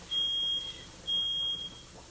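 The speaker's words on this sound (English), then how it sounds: "this fire alarm going off" Smoke detector fire alarm beeping indoors in two long, loud, steady high-pitched tones, each about half a second long with a short gap between them, sounding alone with no talking.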